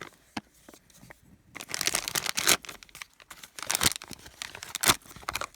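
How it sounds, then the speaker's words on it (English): A plastic icing bag crinkles and rustles up close in sharp, irregular bursts, with a brief tearing rasp as it is pulled open, then more crackling handling. "So then for the bag, you just unzip it."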